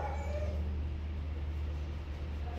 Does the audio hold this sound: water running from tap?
no